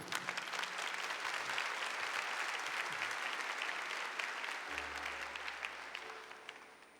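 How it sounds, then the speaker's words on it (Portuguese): A church congregation applauds loudly and steadily after a Gospel reading at a Mass, sustained dense clapping from many hands filling the space, with a low organ or keyboard tone entering partway through. "Aplauda com força."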